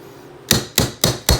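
Four sharp metallic hammer taps, evenly spaced and close, drive a roll pin into a SAR USA K2-series pistol during a reduced power spring kit installation, each strike ringing briefly over quiet background.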